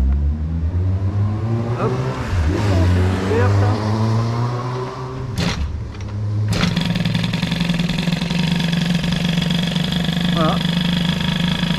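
A Peugeot 103 moped with a Doppler engine on choke sputters to life and settles into a steady two-stroke idle, loud and close, with a brief burst of revving partway through while someone talks over it.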